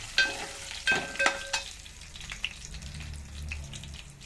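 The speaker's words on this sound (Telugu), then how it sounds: "తాలింపులో కొంచెం మెంతిపిండి వేస్తున్నానండి." A tempering of spices sizzles in hot oil in a pan as fenugreek powder goes in, with close crackling bursts and spoon clinks at first, then a softer steady fry, no talking.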